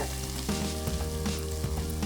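Steady, close sizzling of onions frying in ghee, with occasional soft stirring scrapes and no talking.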